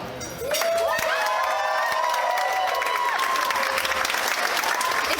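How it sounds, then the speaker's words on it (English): Wedding reception guests burst into loud, sustained clapping and cheering as the maid of honour takes the microphone, a full crowd roar that swells after a brief quiet start and holds steady. "When she touches the mic, that's when you clap."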